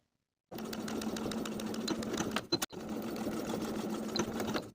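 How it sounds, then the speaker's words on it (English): A sewing machine runs a straight top stitch along a fabric strap, humming and clattering steadily up close, pausing briefly once before resuming at the same even pace. "Top stitch in place along your previous top stitching. I'm just going to be using a regular straight stitch here."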